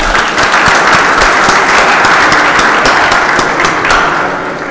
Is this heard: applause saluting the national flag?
yes